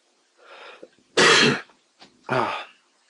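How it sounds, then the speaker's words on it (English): A person with a sore throat gives a few close, harsh coughs and throat clears, separate bursts with brief gaps of quiet between them. "if I end up coughing, apologies in advance"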